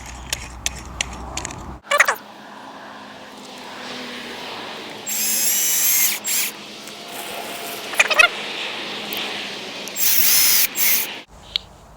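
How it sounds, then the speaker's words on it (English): A cordless drill with a screwdriver attachment whirs in several short, high-pitched bursts, driving screws into a gazebo side panel, with pauses between runs and some clicks and handling noise. "Then you need to change the drill to the screwdriver attachment."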